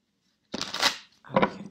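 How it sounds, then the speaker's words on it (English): Tarot cards being given a final shuffle, two close bursts of riffling and slapping with a brief pause between them and no talk. "I like to do the final shuffling here."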